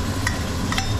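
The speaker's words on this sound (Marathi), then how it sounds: "मिरची आणि आलं लसणाची पेस्ट आपण याच्यामध्ये टाकणार आहोत" Chili and ginger-garlic paste hit a hot pan for Agri Koli chicken rassa, giving a soft, close sizzle broken by two quick stirring scrapes within a single second.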